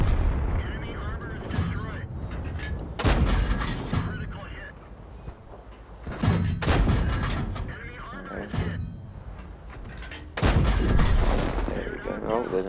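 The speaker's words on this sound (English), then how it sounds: "Aim at an enemy vehicle and fire." Tank cannons firing in the World of Tanks video game, several heavy booming blasts with rumbling tails over continuous engine and battle noise, loud and close.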